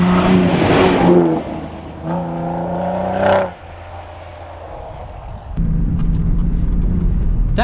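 A 2021 Ford F-150 Raptor pickup revs and accelerates loudly off-road in several surges, the engine note climbing and dropping between gear changes amid wind and tire noise.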